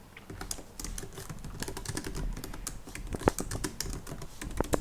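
Fingers typing on a computer keyboard while editing on a computer, a continuous close patter of quick, uneven key clicks with a few louder strokes near the end.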